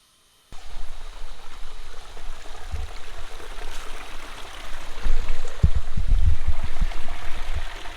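After a brief silence, water rushes and gurgles continuously nearby, a forest stream near Khoiyachora Waterfall flowing over rocks that grows louder and more splashy toward the end.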